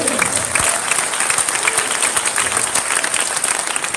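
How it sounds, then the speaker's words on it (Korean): A large crowd at a Christian leaders' forum in Korea applauds steadily, dense, continuous clapping filling the hall at a constant loud level with no voices on top. "박수 한번 쳐주시고요"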